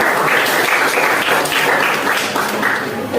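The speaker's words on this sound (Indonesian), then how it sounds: "kita berikan aplaus untuk teman kita" Classroom applause for a classmate during an Islamic religious education lesson, a steady dense patter of many hands clapping throughout, fairly loud and close, with no talking over it.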